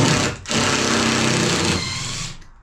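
A power tool backs screws out of old wood in an abandoned cabin, its motor whining loud and steady after a brief pause, then winding down as the trigger is released.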